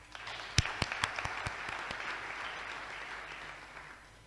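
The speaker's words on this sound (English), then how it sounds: "Can we give them a clap?" An audience at a university ceremony for a paediatrics casebook launch applauds, a few sharp claps at the start swelling into steady, moderately loud clapping that continues throughout.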